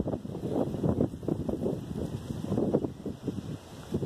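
Strong wind blowing outdoors near a decorated Christmas thuja tree, heard as loud, uneven rumbling gusts buffeting the microphone throughout.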